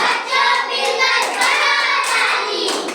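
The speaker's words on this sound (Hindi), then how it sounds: "बच्चों मिलकर बजाओ ताली" A group of children clap their hands together in a classroom alphabet song, a dense, continuous patter of many overlapping claps, loud and close, with no clear speech.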